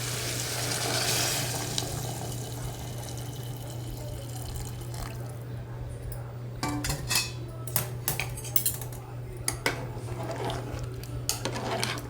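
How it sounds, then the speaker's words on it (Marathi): Hot water poured into fried mutton in a pressure cooker, a steady close rush of liquid with metallic clinks and taps of utensils toward the end, no voices. "आता ते गरम पाणी याच्यामध्ये ॲड करते"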